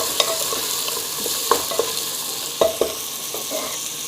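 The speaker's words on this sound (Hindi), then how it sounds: "सब्जियां जो हैं वो अच्छे से भून चुकी हैं" Vegetables for dal khichdi sautéing in a pan, a steady close sizzle of frying with a few soft spoon knocks and stirring scrapes scattered through it.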